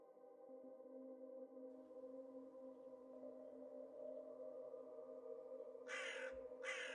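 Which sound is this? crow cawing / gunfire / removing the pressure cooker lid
crow cawing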